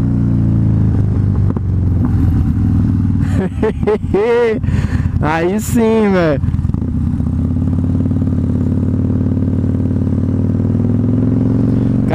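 Harley-Davidson Fat Bob 2013, a Dyna motorcycle, rumbling loudly up close while ridden, its engine droning steadily with revving swells mid-way and a few crackling exhaust pops, a rider's voice speaking over it.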